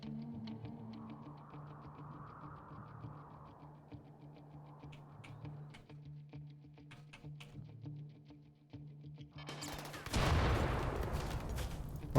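Turret guns in the RimWorld video game fire on raiders in rapid, fairly distant volleys of sharp ticks over a low hum, before a much louder, dense burst of shots near the end.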